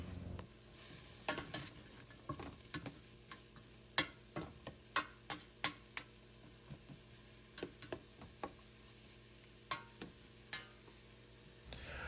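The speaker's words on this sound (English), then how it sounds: "I like to saute my vegetables until they get a nice translucent color, until the sausage gets some color." Yellow squash and sausage sautéing in a pan, with a soft steady sizzle under a series of sharp clicks and taps from stirring against the pan, fairly quiet and close, with no talking.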